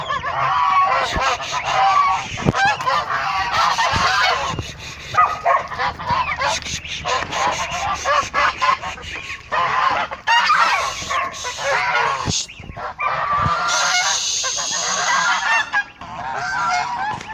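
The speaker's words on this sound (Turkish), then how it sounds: "Evet şimdi kazlar gezinme alanlarında." Several geese and goslings honk repeatedly and noisily nearby in their grazing area, a busy overlapping chorus with what may be a dog yipping among them.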